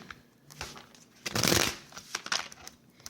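Cards being shuffled, a soft riffling burst swelling in the middle, with a few lighter shuffling flicks before and after.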